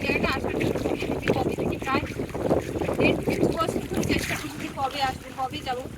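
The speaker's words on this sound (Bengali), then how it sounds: "ঢেউগুলো মাঝে মাঝে এমনভাবে ধাক্কা দিচ্ছে" River waves in the Sundarbans slap against a boat's hull in uneven bursts, mixed with gusty wind buffeting the microphone and nearby voices talking throughout.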